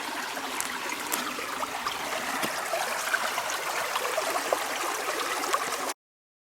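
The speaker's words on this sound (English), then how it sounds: "Water flows right out from that wall to the left." Water flows out of a rock wall inside Leidarendi lava cave in Iceland, a steady close trickling and splashing stream with occasional drips, running continuously until it cuts off abruptly.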